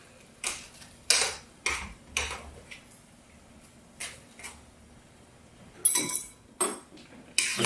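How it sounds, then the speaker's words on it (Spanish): Egg being whisked into boiling Shin ramen broth in a pot, heard as a series of sharp metallic taps and clinks against the pot at an irregular rhythm, close and fairly loud. "Cuando ya hierve todo, meteremos el huevo y batiremos juntos."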